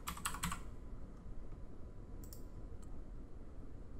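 Brief burst of typing on a computer keyboard, a few quick clicks close by at the start, then a couple of faint isolated taps over a quiet room hiss.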